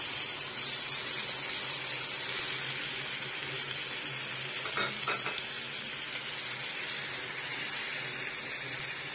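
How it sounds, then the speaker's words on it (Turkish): Chopped tomatoes sauté in oil and butter in a pan for menemen, a soft, steady sizzle with a brief stirring scrape midway. "Şimdi bu da sotelensin."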